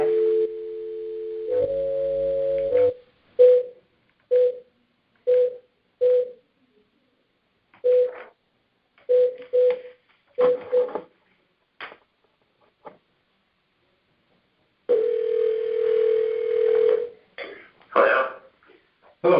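A telephone call is placed, with a steady dial tone, a burst of dialing tones, then a series of short evenly spaced beeps and another long tone, each sound clean and isolated against silence.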